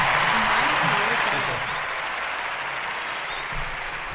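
A loud applause sound effect plays over a live sports podcast show, a dense wash of clapping that starts strong and slowly eases off, with a voice faintly underneath at first.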